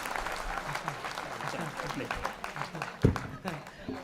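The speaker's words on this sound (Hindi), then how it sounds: "एक बार पूरा सदन जोरदार ताली बजाकर बताइए" Audience at a kavi sammelan poetry gathering claps steadily throughout, a dense crowd applause with a sharper burst near the end, mixed with voices.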